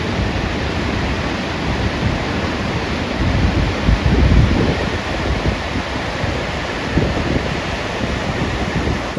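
The Alaknanda river rushes near Joshimath in the Himalayas, a loud, continuous broadband roar of flowing water with some wind buffeting the microphone, steady throughout and with no talk.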